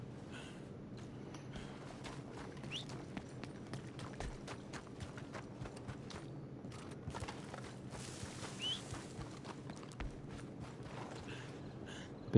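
A horse trotting with rhythmic clip-clop hoofbeats while being ridden in the video game Red Dead Redemption, soft and steady under faint ambient game sounds.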